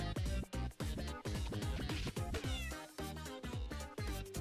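A cat meows repeatedly in a game alley scene, a rapid run of loud, close, insistent cries with no talking.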